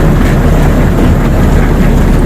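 Low-revving feeder and threshing drum of a Bizon combine harvester, a steady, loud mechanical rumble and drone that stays constant throughout with no talking over it.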